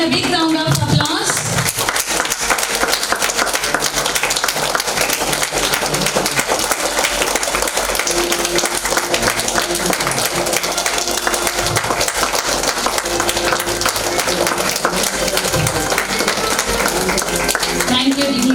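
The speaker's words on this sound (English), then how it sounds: "Please give them a big round of applause." A hall audience at a kindergarten graduation ceremony claps for arriving dignitaries in a long, loud, continuous round of applause, with music playing underneath.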